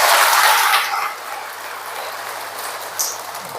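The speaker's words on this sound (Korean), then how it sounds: "박수 한번 쳐야 됩니다" Audience applause at a Korean church charity gathering, a burst of clapping that is loudest at first, then fades to a softer patter with a few scattered claps.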